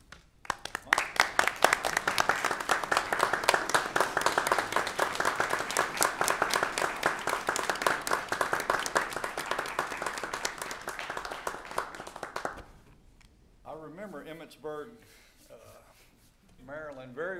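Applause at a county commission meeting honouring a certificate recipient, a crisp burst of clapping from a modest room that holds steady for about twelve seconds before stopping, followed by a voice speaking.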